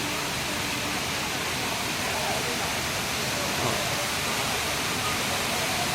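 A swelling river near Tagkip Falls rushes in a steady, dense roar that fills the whole stretch evenly without letup.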